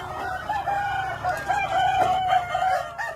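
Chickens in a coop that has just been opened cluck and call in a steady, close, fairly loud chorus, with shifting tones and a few sharper squawks.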